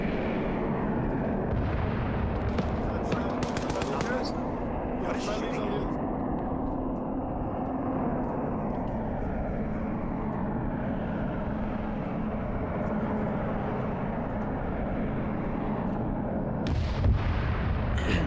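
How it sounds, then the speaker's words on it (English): Tank cannon fire in a drone combat video game, heavy booming blasts scattered over a constant low rumble, with a few sharper bursts early on and near the end. "That's a tank firing up at him."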